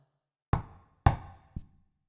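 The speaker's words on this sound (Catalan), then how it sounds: "es va escoltar un colp a la porta" Three sharp knocks on a door, the last one softer, close and alone with no talk.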